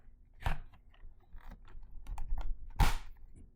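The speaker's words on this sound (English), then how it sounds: "All you have to do is slide into the vacuum adapter" A Milwaukee 5 amp-hour battery slid into a Dyson vacuum adapter, giving scattered plastic scrapes and small clicks, then one sharp latching snap near the end, close and fairly quiet.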